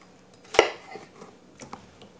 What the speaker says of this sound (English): So let's cut these in half.